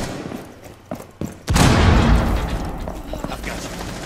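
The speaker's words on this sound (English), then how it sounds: "Tossing crack grenade." A crack grenade going off in Rainbow Six Siege: a few small sharp pops, then a loud close burst at about one and a half seconds that trails into a long rumbling roar.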